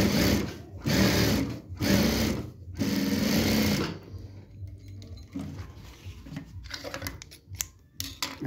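A sewing machine stitches a double seam in fabric with an 8 mm margin, running in three fast, loud bursts separated by short pauses, then giving way to quieter fabric handling and light clicks.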